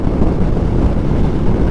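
Wind buffeting the microphone during a motorcycle ride on Going-to-the-Sun Road in Glacier National Park, a dense steady low rumble with no voices.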